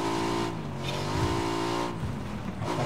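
Three-seat motorbike engine revving in a video game, a harmonic engine whine that rises and falls through a couple of throttle surges, loud and close with no talk.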